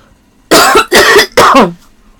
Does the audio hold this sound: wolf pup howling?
no